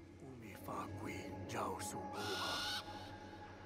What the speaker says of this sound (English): There, I've got my own owl friend.